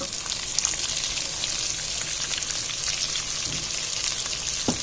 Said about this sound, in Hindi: प्याज को फ्राई करेंगे अच्छी तरह से।